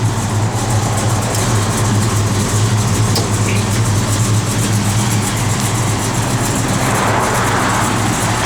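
A 1970 Chevrolet Chevelle SS idles with a steady low rumble that stays even and continuous throughout, close by, with a faint hiss of background noise and no talking.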